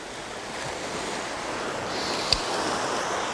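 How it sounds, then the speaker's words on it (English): Ocean waves wash steadily over a sandy shore, a broad, constant surf hiss with a light wind rush and one brief sharp tick near the end. "Every wave of every tide stirs the surface of the sand."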